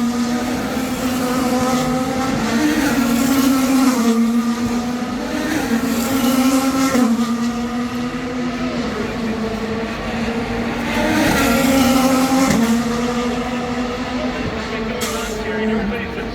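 Race cars at the Long Beach Grand Prix drone steadily throughout, a loud sustained engine tone swelling and fading as cars pass, with a crowd and talk mixed in.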